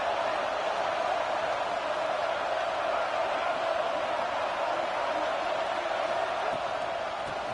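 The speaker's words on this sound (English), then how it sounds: "It's early, but this crowd is fired up. Listen to this noise here." A fired-up stadium crowd roars in the College Football 26 video game during a Tennessee vs LSU game, a dense, continuous wall of cheering that holds steady and loud from start to finish.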